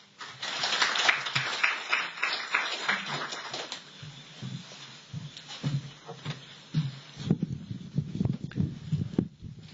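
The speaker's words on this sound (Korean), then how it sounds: "큰 박수로 환영해 주시기 바랍니다" An audience at a 2017 Jeju Forum session on Jeju Healthcare Town welcomes a speaker with dense applause for about four seconds, which then thins into scattered claps and low shuffling.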